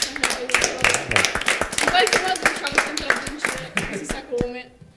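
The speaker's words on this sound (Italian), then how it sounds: "un applauso alla cantera" Scattered applause for a group after a talk, individual claps heard near and uneven amid overlapping voices and chatter, fading toward the end.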